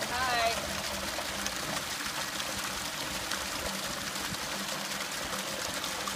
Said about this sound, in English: here at the spring in Woodbury, filling up spring water for drinking at home and for making our brew.